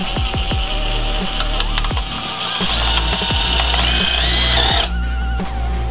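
A power drill with a regular bit drives screws into a homemade wooden prop bat, giving a loud, close whirring motor whine with rising and falling pitch and ratcheting clicks, running almost without a break for several seconds.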